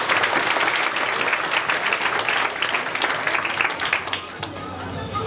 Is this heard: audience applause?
yes